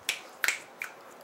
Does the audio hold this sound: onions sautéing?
no